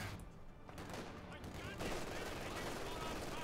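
Machine gun fire in the Company of Heroes 2 strategy game, a steady, dense rattle of bursts that blends into a constant battle din throughout, with someone talking over it.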